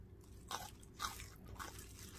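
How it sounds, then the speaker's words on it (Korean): A few crisp, close bites and crunches into a Korean pickled cucumber (jangajji) aged one week, spaced sharp crackles with no talking. "아삭한 소리 들리시죠?"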